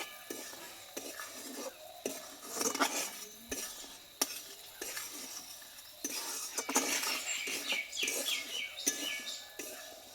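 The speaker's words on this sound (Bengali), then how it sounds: "এলাচের গুঁড়োটা দিয়ে আমি একটু এভাবে মিশিয়ে নেব" A spoon stirs cardamom powder into a sweet puffed-rice khoi murki mixture in a pot, with repeated scraping and clattering strokes, quiet metal knocks and faint birds chirping in the background.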